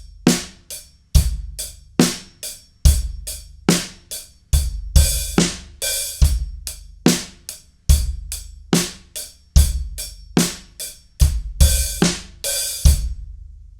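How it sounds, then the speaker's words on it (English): Drum kit playing a slower song beat variation, with kick and snare hits on a steady pulse and hi-hat strokes that open on certain offbeats, close and loud with no talking. "Again, slower, that first variation, it would sound like this"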